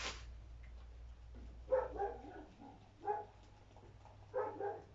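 Several dogs bark faintly in the distance at an off-grid rural home in winter, in three short bursts over a low steady hum.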